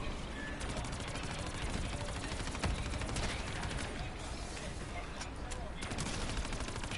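Rapid automatic gunfire rattles continuously in a zombies game as players shoot at the Shadow Man, a fairly quiet, busy stream of shots with a few louder bursts and talking over it.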